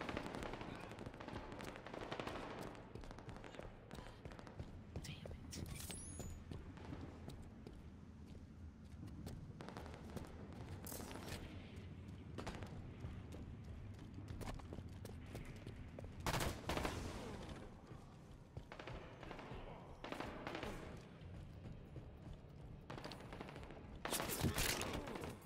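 Sustained automatic gunfire from Halo 5: Guardians SWAT play, dense rattling bursts running nearly continuously with louder volleys standing out, with a voice talking over parts of it.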